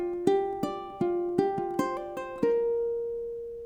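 A ukulele plucks a short melody of single notes from Auld Lang Syne in an even rhythm, ending on a sustained note that rings out and fades.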